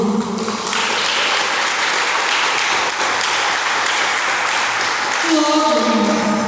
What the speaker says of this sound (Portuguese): Posso ouvir um aplauso ao Senhor Jesus?